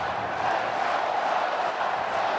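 A football stadium crowd of Oregon fans shouts and roars in a sustained, dense wall of noise, loud and unbroken for the whole moment.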